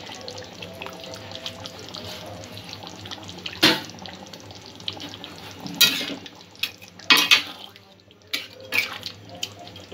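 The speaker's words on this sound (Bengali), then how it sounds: "এখানে সামান্য একটু জল আমি যোগ করব, যাতে সব কিছু আর একটু ভালোভাবে সেদ্ধ হয়ে যায়।" Water poured into a cooking pot of vegetable korma makes a few short splashing bursts at intervals over a steady low kitchen hum, fairly close, with no talking.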